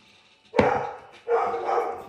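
A dog barks indoors, one sharp loud bark followed after a brief pause by a second longer bark, close by with no talk over it.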